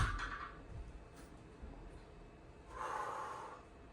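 Breath exhaled during a stretching routine, heard as two soft, close airy breaths, a short one at the start and a longer, fuller one near the end, with quiet stillness between them.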